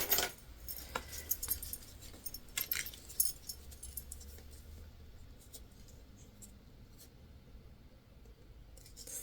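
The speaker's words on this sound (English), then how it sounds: "first going to attach our zipper pull." A metal zipper pull is fitted onto a sewn sling bag, making faint, close, intermittent metallic jingles and clicks, busiest early on before settling into quiet handling rustle.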